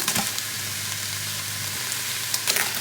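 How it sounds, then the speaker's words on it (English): Ground beef and onions frying in a pot make a steady, even sizzle close by, with a few brief scraping clatters at the start and end and no one talking. "now that the onions are pretty much cooked, they've been cooking for about 3 minutes, I'm gonna add in my ground beef"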